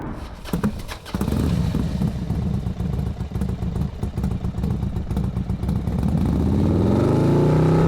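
A Can-Am Ryker three-wheel motorcycle carries two riders on a road ride, its engine droning loud and steady throughout, with a rising rev toward the end.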